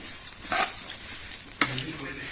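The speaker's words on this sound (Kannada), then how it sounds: "ಚೆನ್ನಾಗಿ ಅಳಗಡಿಸ್ಬೇಕು ಸ್ನೇಹಿತರೆ" Payasa with raisins and cashews being stirred in a pan, with a soft continuous sizzle and two scraping stirs of the spoon, close and fairly quiet.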